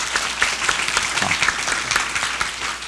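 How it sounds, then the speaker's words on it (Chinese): Audience applause at a youth forum on future competitiveness, rewarding a student: steady, dense clapping from a room full of people that holds at an even level for the whole stretch, with no voices over it. "我们掌声给这同学鼓励一下哈。"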